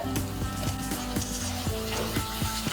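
Chopped ginger fries with cashews in a hot pan, giving a close, steady sizzle broken by regular scraping and stirring knocks of a spoon against the pan.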